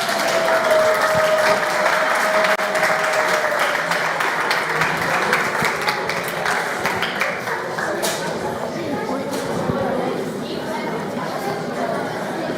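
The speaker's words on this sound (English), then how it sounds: "So big applause for them." Audience applause after a group presentation at an empowerment hub event, steady and dense for the whole stretch, with crowd chatter mixed underneath.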